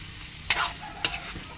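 Two quick spatula scrapes cut through a faint, steady sizzle of garlic and onion sautéing in a pan for a squid dish.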